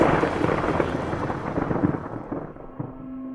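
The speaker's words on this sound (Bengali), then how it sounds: "ঠিক তখনই কাছেই বিকট শব্দে একটা বাজ পড়ল" A loud thunderclap sounds as an effect, breaking into a dense, rolling rumble that slowly fades over a few seconds, with no voices.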